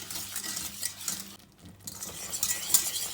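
A spoon stirs sugar melting in butter in a pan over fairly high heat for makhandi suji halwa, giving a steady close scraping and soft sizzle with light metallic clinks and a brief lull midway.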